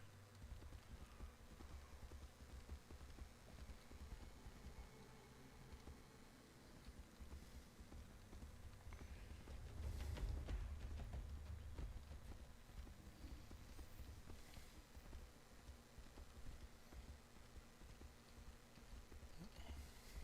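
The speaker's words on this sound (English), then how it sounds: "Taking the horse is nice." Horse hooves clip-clopping steadily in the Tainted Grail video game, a continuous quiet rhythmic gait under a low ambient background with no talking.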